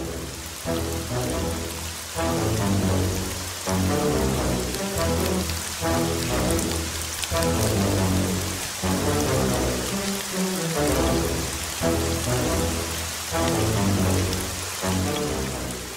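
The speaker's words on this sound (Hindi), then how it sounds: "तेज बारिश होने लगी।" Heavy rain pours steadily in an animated children's story of Noah's Ark, a loud, continuous hiss and patter of drops on surfaces with no voices over it.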